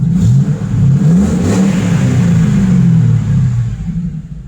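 1970 Mustang Mach 1 with a 4.6 engine revving close by, a loud deep rumble rising and falling through a few throttle blips before settling and fading slightly.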